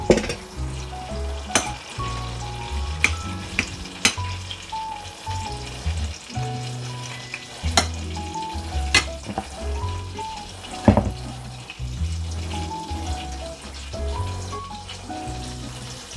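Börek fries in a pan, a continuous loud sizzle with scattered clinks and stirring knocks of utensils against the pan throughout, no talk.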